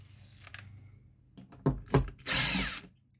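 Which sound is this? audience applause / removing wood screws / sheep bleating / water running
removing wood screws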